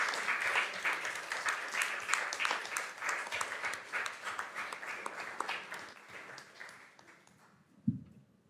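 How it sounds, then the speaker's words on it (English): A school board meeting audience applauds its retirees, a dense, steady clapping that fills the room and gradually thins and fades toward the end, with a single sharp knock near the close. "Let's give them all a big round of applause."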